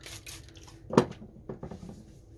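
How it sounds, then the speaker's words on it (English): A table shaken by hand sets loose items on it rattling, with one sharp clatter in the middle and softer knocks and taps around it. "And now I'm going to shake the table."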